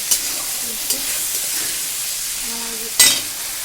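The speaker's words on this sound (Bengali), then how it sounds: "কচু এটাকে আমি আবার ভাজব" Steady hiss of taro frying in oil, with a few soft stirring clinks and a louder sizzling burst near the end; no talking.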